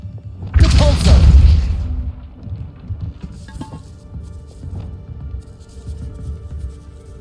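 A Depulso spell is cast in Hogwarts Legacy outside a gatehouse, giving one heavy booming thump that swells and fades over about a second, followed by quieter scattered patter and rumble.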